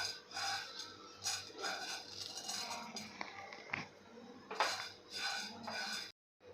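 Coriander seeds being dry-roasted in a pan for garam masala, stirred with a utensil in bursts of scraping, rattling and clinking metal, close and fairly quiet, ending abruptly.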